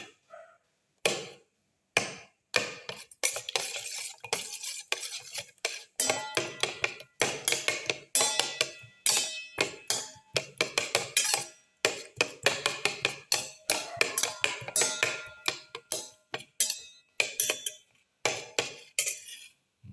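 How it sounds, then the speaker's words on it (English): Tomato pieces crushed and mixed in a pan with a utensil, a long series of sharp irregular knocks and scrapes against the metal, close and alone without talk. "Crush the tomato pieces by mixing"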